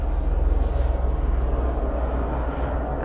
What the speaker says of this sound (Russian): О, вертолет! Теперь как-то он в ту сторону пролетел